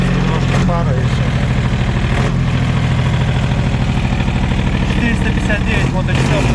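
The engine of a Yanmar AF224 Japanese mini tractor idles steadily and loudly up close, a constant chugging hum while someone talks over it.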